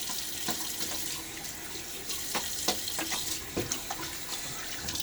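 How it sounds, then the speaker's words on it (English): Water runs from a tap into a sink during a wet shave, a steady splashing flow close by with a few brief louder splashes and drips over it. "A little splash of water here."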